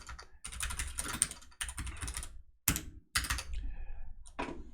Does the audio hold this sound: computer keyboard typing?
yes